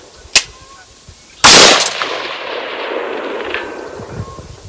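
An ATI Alpha Maxx AR-15 rifle fires outdoors at a range: a lighter crack, then a loud close shot whose long echo rolls away, followed by a faint distant ring.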